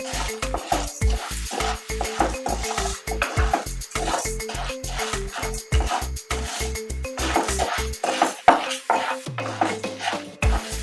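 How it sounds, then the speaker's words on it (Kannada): Fenugreek seeds, chana dal and urad dal dry-roasting on low heat in a pan, stirred with a spoon in a quick regular scraping rhythm, dry rattling grains and clinks against metal, close and loud with no talk. "ಮೊದಲಿಗೆ ಮೆಂತೆ ಕಡಲೆಬೇಳೆ ಮತ್ತು ಉದ್ದಿನ ಬೇಳೆ ಈ ಮೂರನ್ನು ಸಣ್ಣ ಉರಿಲಿ ಚೆನ್ನಾಗಿ ಕೆಂಪಾಗೋವರೆಗೆ ಹುರ್ಕೋಬೇಕು"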